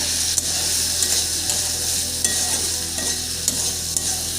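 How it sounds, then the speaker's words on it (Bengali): Onions and potatoes fry with a steady loud sizzle in a pan while a spatula stirs them, giving light scraping and clicking taps every half second or so, with no talking. "সব কিছু বেশ ভালোভাবে নেড়ে চেড়ে মিক্স করে নেব"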